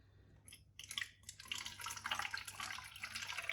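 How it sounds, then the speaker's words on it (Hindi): Water with walnuts in it spills and splashes while being poured into a bottle, a continuous close trickling and splattering that builds after a brief pause. "यहाँ पे ना ये पानी बाहर गिर रहा है।"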